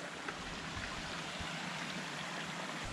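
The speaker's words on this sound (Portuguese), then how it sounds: "já estamos a ouvir bem a água, ouçam" A mountain stream and waterfall in the Serra d'Arga hills rush steadily as a continuous broad hiss of flowing water, close and unbroken, with no voices.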